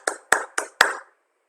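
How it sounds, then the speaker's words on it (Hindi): Four sharp hand claps in a quick, slightly uneven rhythm, close and fairly loud, with a short room tail and no talking. "फाइनेंस मिनिस्टर ने ताली बजाई"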